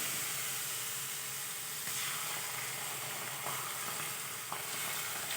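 Leftover rice snack being tempered in a hot pan with tangy, sweet and spicy sauce: a steady, bright sizzle and hiss throughout, with faint occasional stirring scrapes, close and without speech.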